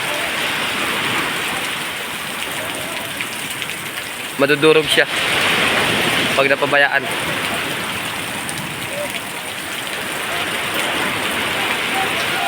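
Strong wind and surf roar steadily on El Nido beach where boats are pulled up on the sand, a dense, continuous wash that runs the whole time while voices talk briefly in the middle.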